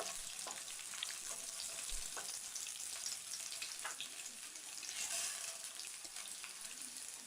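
Garlic cloves frying in hot oil for a Telugu potato fry, a steady soft sizzle with occasional light crackles and stirring clicks, fairly quiet and with no talking.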